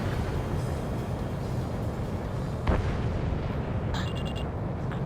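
A broad, heavy explosion from a destroyed UAV in the Ace Combat 7 video game, a sustained rumbling roar with a sharper burst near the middle and faint electronic cockpit beeps following.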